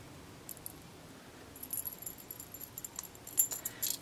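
A chain holding small quilting seam allowance discs is unclipped, giving light metallic jingles and tiny clicks that grow busier toward the end, close and quiet, with no speech.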